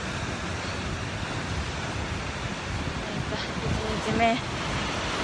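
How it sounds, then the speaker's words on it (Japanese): Surf breaking at a beach on a morning of big waves for a beginner surfer, a steady broad wash of water and wind noise throughout, with someone talking over it. "サーフィン初心者の私にとってはかなり今までで一番大きい波で"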